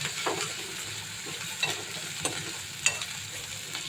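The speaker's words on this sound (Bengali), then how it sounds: "আমি আমার রান্না এই যে মশলাটা কষাচ্ছি" Masala being stir-fried in a pan, a steady close sizzle with soft scraping stirs at irregular moments and no voices.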